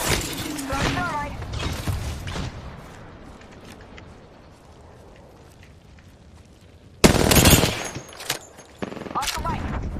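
Gunfire in the Apex Legends video game: bursts of rapid automatic shots open the scene, then a quieter stretch before sharp loud volleys return, with game voice lines in between.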